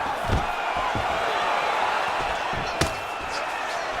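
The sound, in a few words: crowd reacting to strikes in UFC 4 video game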